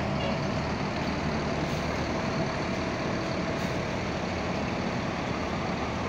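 Buses queue at the Purabaya Bungurasih terminal exit in Surabaya, their heavy diesel engines idling and rumbling in a continuous loud drone close by, with no talk.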